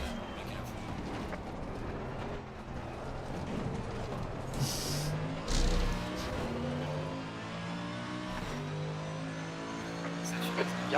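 GT3 race car engines with muffled exhaust silencers in the Le Mans Ultimate sim racing game, a steady mid-level drone rising and falling with revs through gear changes, with a voice talking over it.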